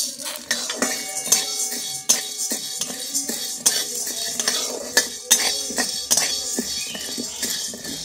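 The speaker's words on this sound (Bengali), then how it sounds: "ছোলার ডালটা আমি শুকনো কড়াতে একটু ভেজে নেবো।" A spatula scrapes and stirs chana dal dry-roasting in an empty kadai, with steady metallic clinks against the pan running throughout, under soft background music.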